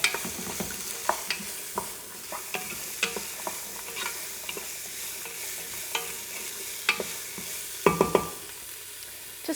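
Celery and carrots cooking in a pot for a vegetable soup, with a soft continuous sizzle under frequent sharp scrapes and taps of a spoon stirring, heard close and without voices.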